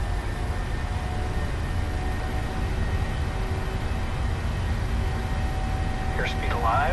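PMDG 737-800 jet engines on a takeoff roll in Microsoft Flight Simulator give a steady, broad roar that holds evenly throughout, with a voice calling out over it.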